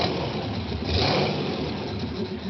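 A Detroit two-stroke diesel engine runs with a loud, dense, steady roar and slight surges, heard close up.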